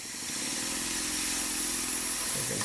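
Small Stirling steam engine kit runs steadily with a soft, continuous mechanical whir and faint rhythmic ticking, close and fairly quiet throughout.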